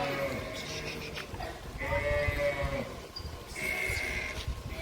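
A flock of sheep and goats being driven out from a Gujarati village to graze, with repeated overlapping bleats near and far over shuffling movement and a voice speaking.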